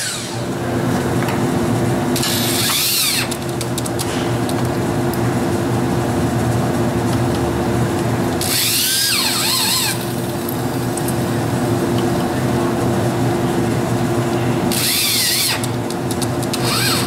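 Power driver sinking screws into an anchor while building wooden A-frames for a trebuchet, three short whirring bursts spaced several seconds apart over a steady loud background hum.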